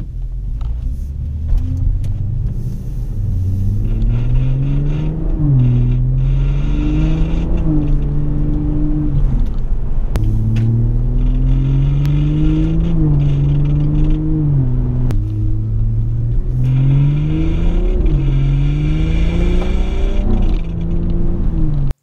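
BMW F30 sedan driving with a scraping noise from the parking brake, heard under a continuous engine drone that rises and falls with acceleration and gear changes, close and loud from inside the car, no talking.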